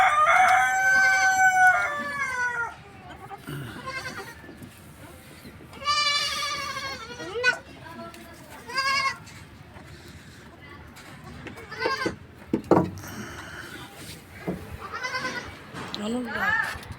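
Young goat kid, five or six months old, bleating in several separate wavering calls, with a rooster crowing nearby and people talking between the cries.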